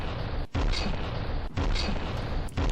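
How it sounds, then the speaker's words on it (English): A large cannon in From The Depths fires shells the size of a small car, three heavy booming shots about one second apart, each a loud dense blast. "It's a freaking large cannon."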